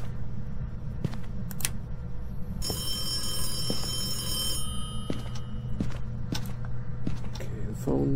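An old-style phone rings inside the horror game Phasmophobia, a bright trilling bell burst of a couple of seconds over a steady low hum, with occasional clicks and footsteps around it.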